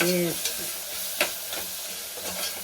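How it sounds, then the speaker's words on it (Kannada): Ginger, garlic and green chili paste fries in a pan with a steady close sizzle and hiss, broken by a few scraping stirs, with a brief voice at the start. "ಎಲ್ಲ ಫ್ರೈ ಮಾಡ್ಕೋಬೇಕು, ಯಾಕಂದ್ರೆ ಖಾರ ಹಸಿ ವಾಸನೆ ಹೋಗ್ಬೇಕು"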